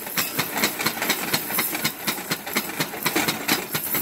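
Popcorn kernels burst inside a lidded pan as it is shaken. Sharp pops come in quick, irregular succession over a steady steamy hiss, close and fairly loud.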